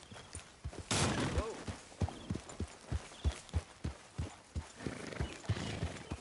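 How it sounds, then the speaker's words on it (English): Steady clip-clop of horse hooves with a brief whinny near the start, a rhythmic trot heard up close over faint background noise, in the video game Red Dead Redemption 2. "get that horse out of here"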